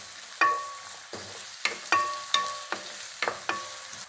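Onions with salt being sautéed in a pan, with repeated scraping stirs and clinks of a spoon against the metal over a steady low sizzle, close and fairly quiet.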